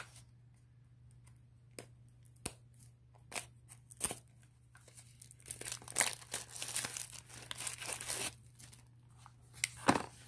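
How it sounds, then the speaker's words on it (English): Cellophane shrink wrap is peeled and torn off new knives, producing close, irregular crinkling and crackling bursts that grow busier toward the end, over a low steady hum. "It's just like cellophane, you know, shrink wrap around them."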